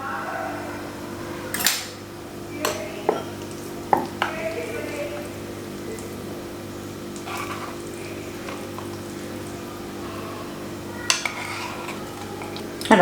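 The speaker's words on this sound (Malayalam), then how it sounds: "നമുക്കിതെല്ലാം കൂടെ ഒന്ന് മിക്സ് ചെയ്യാം" Cooked jelly-like sago is stirred into onion batter for bonda in a bowl, with scattered utensil scrapes and clanks against a low background hum.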